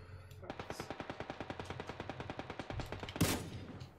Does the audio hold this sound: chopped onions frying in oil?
no